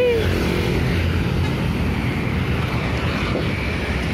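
A Harapan Jaya Ekonomi bus overtakes on a busy road toward Tulungagung, its engine a steady, loud roar blending with continuous traffic rumble and wind noise throughout, with no clear talk.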